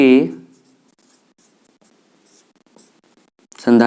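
Faint, sparse chalk strokes on a classroom board during a physics lesson on capacitor combinations, quiet scratches and taps falling between a teacher's speech at the start and end.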